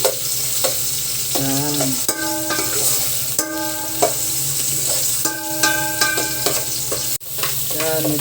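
Ginger sautés in a pan, a steady sizzle under repeated spatula scrapes and clinks, close up, while a voice speaks briefly.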